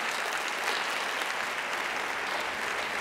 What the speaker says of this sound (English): You can clap all you want.